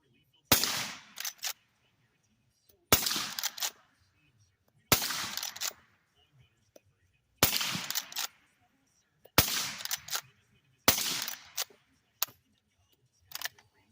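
A suppressed Rossi R92 lever-action rifle fires .38 Special rounds outdoors nearby, six sharp muffled cracks spaced about two seconds apart, each followed by brief mechanical clatter of the lever action, with quiet gaps between.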